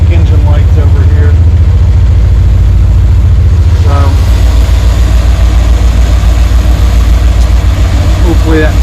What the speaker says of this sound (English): It's idling perfect.